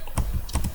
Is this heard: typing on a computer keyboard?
yes